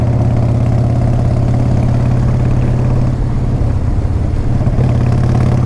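A 1994 Harley-Davidson Fat Boy motorcycle idles steadily, its low throbbing engine loud and close throughout with a constant uneven rumble and no speech.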